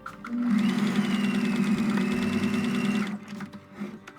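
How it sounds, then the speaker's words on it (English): A sewing machine stitches a nightgown in one steady, close, whirring run of about three seconds before stopping. "And you're ready to sew."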